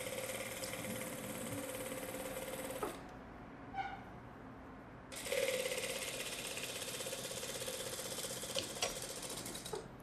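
A sewing machine runs edge stitching along fabric with a steady, close mechanical whir. It stops for about two seconds, then starts again and runs continuously to the end.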